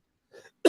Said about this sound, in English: Still recovering from a cough.